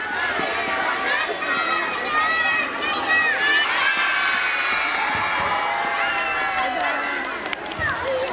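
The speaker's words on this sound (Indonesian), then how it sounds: "Ya, beri tepuk tangan yang meriah." A crowd of children and adults cheers and shouts at a primary school talent show in Makassar, a loud, continuous roar of voices with whoops and calls that stays steady throughout.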